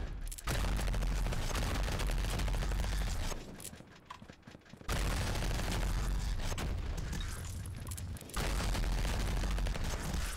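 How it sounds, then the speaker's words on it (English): Dense, continuous gunfire and explosive booms from the FPS survivor-like video game Vampire Hunters, many guns firing at once, roaring loudly with a couple of brief lulls. "seeing a bunch of guns on the screen firing"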